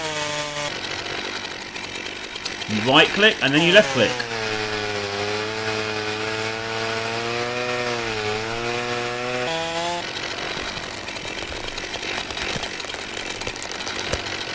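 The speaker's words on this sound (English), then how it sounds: "You pick up your lovely chainsaw." Chainsaw in the woodcutting simulator Forestry 2017, revving up with a rising whine and then holding a steady buzzing drone for several seconds before dropping back to idle, while a person talks briefly early on.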